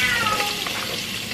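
Cat meowing in a home kitchen, its short cry over a steady sizzle of garlic and onions frying in a pan.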